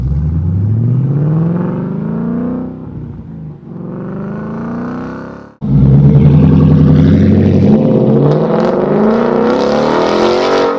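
A loud aftermarket car exhaust revs and drones up in pitch, drops back, then roars again with a deeper, rising burble, close and sustained.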